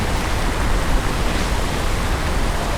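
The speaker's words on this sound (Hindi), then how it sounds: "यहाँ पर खड़े होकर इस वाटरफॉल की जो आवाज़ आ रही है वो इतनी तेज़ आ रही है" A powerful waterfall roars in Anini village, Arunachal Pradesh, a dense, loud, unbroken rush of falling water heard up close with no voices.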